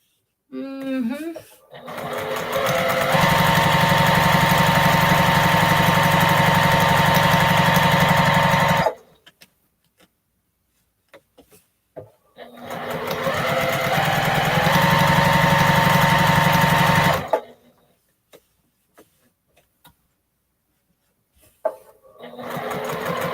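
A sewing machine stitches fat quarters together in two long, loud steady runs of rapid needle hum, separated by quiet pauses with light handling clicks, and a voice speaks briefly between runs.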